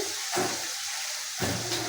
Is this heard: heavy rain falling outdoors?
no